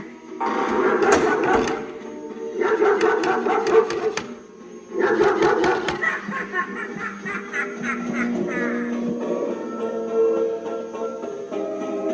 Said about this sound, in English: like a pretty flower, or an evil little attack dog, like this!